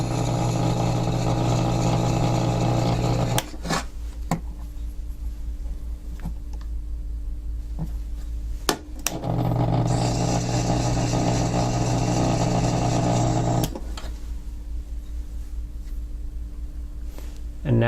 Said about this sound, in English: I'm going to touch these up on a finer wheel.